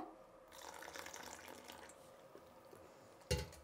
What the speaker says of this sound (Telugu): ఇంకొన్ని నీళ్ళు వేసుకుందాము.